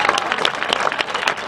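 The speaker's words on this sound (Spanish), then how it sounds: "Un aplauso por venir hasta aquí." An audience at a round-table discussion applauds briefly, a close, dense burst of clapping that stays loud and steady throughout.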